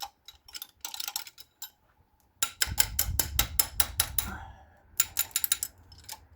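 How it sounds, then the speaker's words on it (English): A spanner works on an injector of a Peugeot XD2 diesel engine, making quick bursts of metallic ratcheting clicks in several runs with short pauses between them, close and clear. "Come on, spanner, just take it up."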